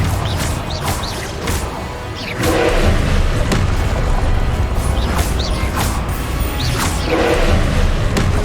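A Confringo explosion spell from the Hogwarts Legacy video game lands as a loud boom, then dense crashing and whooshing battle effects roll on continuously, with repeated bright impacts over several seconds.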